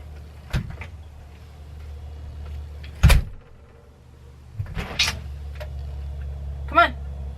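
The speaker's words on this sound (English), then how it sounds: "I'm closing the door." A house door in a home craft room swings and shuts with a few knocks and one sharp thud, then quieter clicks and rattles, with a voice speaking between the sounds.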